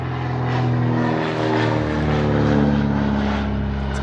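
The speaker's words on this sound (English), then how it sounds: "It's a pontoon plane." A pontoon plane's propeller engine drones steadily overhead at an apiary, a loud, continuous hum that holds level throughout.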